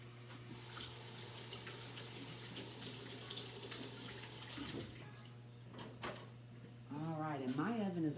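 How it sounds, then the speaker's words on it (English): Water runs steadily from a kitchen tap while hands are rinsed before baking St. Louis style pork ribs, a continuous broadband hiss with a low hum beneath. A voice joins near the end. "I'm gonna give my hands a little rinse."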